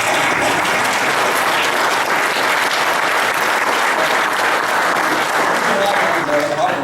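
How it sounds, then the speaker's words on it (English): An audience at a Memorial Day ceremony applauds veterans, a dense, steady clapping that fills the whole stretch at full strength with no break. "Let's give them a round of applause."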